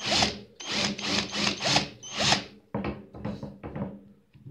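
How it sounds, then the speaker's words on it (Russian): A drill bores into a small wooden board in a series of short whirring bursts, each rising and cutting off, close and loud with brief pauses between them. "И начинаю сверлить"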